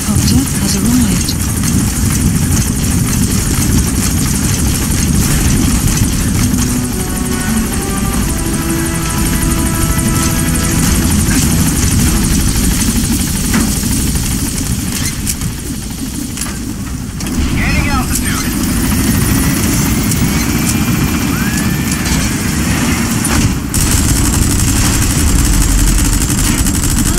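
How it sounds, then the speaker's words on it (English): A support helicopter in Metal Gear Solid V: The Phantom Pain arrives at a landing zone, its loud, steady rotor and engine drone filling the whole stretch, with voices faintly over it. "Support helicopter has arrived."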